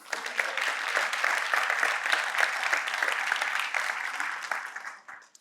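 An audience at a university cancer centre event gives a round of applause, steady dense clapping from many hands that holds for several seconds before tapering off at the end.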